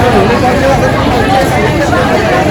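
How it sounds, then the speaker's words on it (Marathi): A dense crowd murmurs and chatters at a busy Pandharpur night market: a loud, continuous wash of overlapping voices with no single clear speaker standing out. "आणि गर्दी बघा किती आहे आणि सर्व आहे शॉपिंगसाठी"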